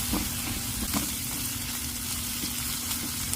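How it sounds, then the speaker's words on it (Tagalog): Shrimp sautéing in a pan with browned garlic and butter, a steady close sizzle and hiss with small stirring scrapes throughout, no voices. "Igigisa ko lang yan for about 1 to 2 minutes"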